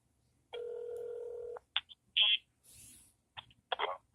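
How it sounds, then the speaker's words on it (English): A single electronic telephone ring tone sounds for about a second, followed by a few short clicks and brief noisy bursts. "the phone ringing."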